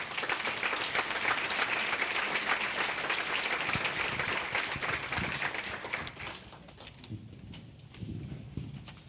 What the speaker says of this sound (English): Big round of applause for all these nominees.